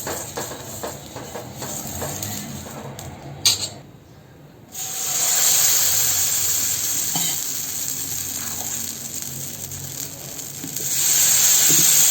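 Oil-rubbed half onion sizzling as it is wiped around a hot clay pan for Malvani ras khaproli, a steady close hiss that drops out briefly, then returns strongly.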